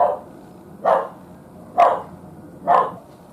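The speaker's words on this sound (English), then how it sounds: "Sorry about my neighbor's dog." A neighbor's dog barks from a distance outdoors, four single woofs spaced roughly a second apart, moderately loud over quiet background.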